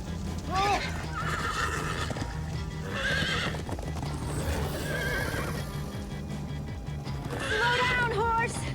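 Horse neighs ring out several times over rhythmic clip-clopping hooves in Minecraft: Story Mode, with a voice talking underneath.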